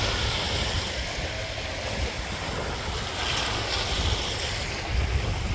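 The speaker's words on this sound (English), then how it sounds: "One more touch of the ocean." Ocean waves wash onto the shore in a steady surging roar, with wind buffeting the microphone and no voices.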